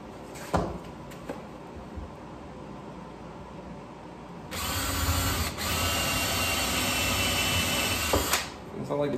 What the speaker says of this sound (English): We're gonna drill some more holes.